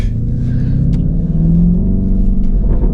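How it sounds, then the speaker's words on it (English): A Lamborghini Urus Performante fitted with an Akrapovič sports exhaust rumbles loudly and steadily up close, its deep engine note rising slightly as it revs. "This obviously got Performante exhaust on it."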